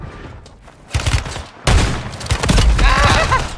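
Gunfire in Call of Duty Warzone, with a few loud, close blasts and a brief lull between them, followed by a sustained burst of rattling shots and explosive noise.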